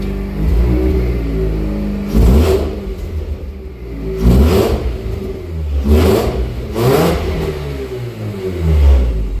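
A Mazda B2200 pickup with a swapped 13B rotary engine and custom exhaust revs hard four times in rising, falling bursts over a loud, rumbling idle, close up with no talking.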